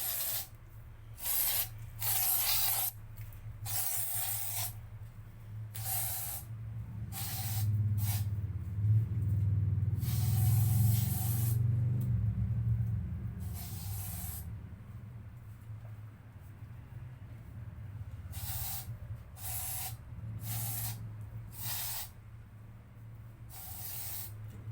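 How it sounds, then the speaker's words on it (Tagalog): A handheld spray bottle hisses in a string of short, sharp bursts during floor cleaning, some spaced apart and some in quick succession, loud and close over a low steady hum. "At saka mag-spray pala tayo."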